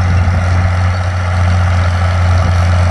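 International Harvester 560 tractor with 63 horsepower pulling a plow, a loud, steady low engine drone with a constant rumble and no pauses.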